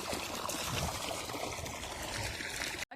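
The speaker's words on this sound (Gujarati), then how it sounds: "અટાણા કેટલું ફોસથી પાણી આવે" Water gushes forcefully into a trough, a steady, dense rushing and splashing that fills the whole stretch without pause before cutting off abruptly at the very end.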